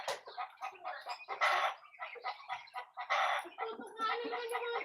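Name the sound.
ducklings squabbling and pecking each other in a cage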